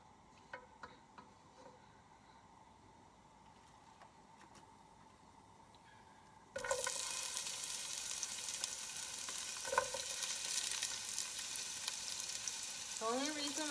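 Chopped onion meets hot oil in a pan on the stove, bursting into a loud, steady sizzle halfway through after some faint clicks and handling, with crackling that continues to the end.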